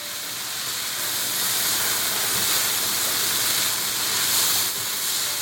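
A kitchen exhaust fan runs while green beans cook, a loud, steady, broadband whoosh that swells slightly after the first second and holds even throughout, with no voices.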